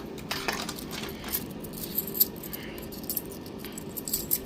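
Coins drop one after another into a Japanese vending machine, a string of small metallic clinks and taps spread irregularly across the stretch over a faint background hum, with no talking.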